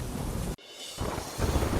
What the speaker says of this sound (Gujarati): ભારે વરસાદના કારણે કુરુંગ અરુવી ધોધમાં પાણીનો ધસમસતો પ્રવાહ વહેતો થયો.